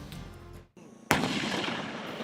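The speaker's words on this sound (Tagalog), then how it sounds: "Sunod-sunod na putok ang pinakawalan ng Sabra light tanks ng Philippine Army." Sabra light tanks of the Philippine Army firing during a live-fire exercise: a sudden sharp, loud cannon blast cuts through background rumble, followed by a long rolling echo.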